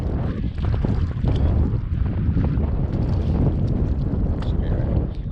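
Strong, steady wind buffets the microphone on the bank of Lake Oroville's West Branch in spring, a constant roaring rush filling the whole stretch without letup.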